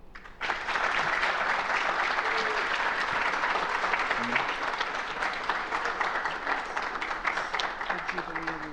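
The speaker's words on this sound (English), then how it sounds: "would you give a round of applause for Joanne Dynasty Ree?" Sustained audience applause at a campus life awards ceremony, steady and full for several seconds from a large crowd, loud and continuous throughout.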